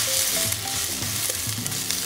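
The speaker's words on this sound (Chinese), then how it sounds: "茄子现在开始吐油，" Soaked eggplant stir-fries in lard in a wok, a dense close sizzle with brief spatula scrapes and tosses over a couple of seconds, no voices present.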